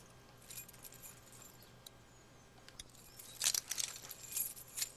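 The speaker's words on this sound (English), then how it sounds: "let's grab the keys" Keys picked up in The Walking Dead game, a bright metallic jangle in short clustered bursts, quiet at first then louder jingling toward the end, with no talk.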